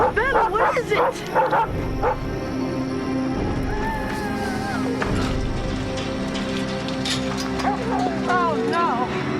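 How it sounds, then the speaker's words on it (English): A dog barks in a tense animated scene, several sharp barks near the start and again later, mixed with music, a horse-like whinny and voices talking over it. "Grady, go call the sheriff to get rid of that dog."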